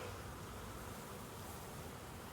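Italian honeybees from a package with a caged queen, about to be installed in a backyard hive, hum in a steady, dense, faint buzz with no talking.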